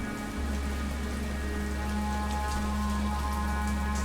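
Heavy rain pours down steadily, a dense, constant hiss with a low hum underneath, continuous throughout with no voices.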